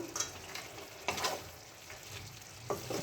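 Spinach, eggplant and bori are stirred in a frying pan over a low sizzle, with a few scraping strokes of the spoon coming in separate bursts.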